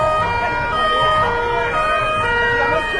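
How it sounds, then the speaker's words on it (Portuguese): A chemical emergency vehicle rolls past in a town parade, its siren wailing loudly and continuously with sweeping pitch over engine rumble and crowd noise. "Carro de emergências químicas."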